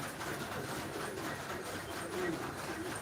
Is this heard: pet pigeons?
yes